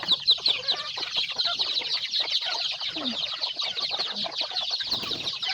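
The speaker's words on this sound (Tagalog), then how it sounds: "maingay na yung mga alaga nating manok" Many chickens cluck and chatter busily all at once, a dense, close flock sound with overlapping calls.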